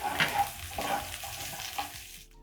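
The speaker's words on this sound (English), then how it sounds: "When your cooking oil is ready, I'm going to add in my onions." Large diced onion dropped into hot cooking oil for an okra stew, giving a close, steady sizzle with stirring scrapes that fades out at the end.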